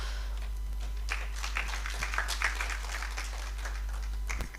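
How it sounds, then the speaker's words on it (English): Sustained audience applause at a workshop, a dense wash of many hands clapping steadily for several seconds before tapering off at the end. "Can we give him another round of applause?"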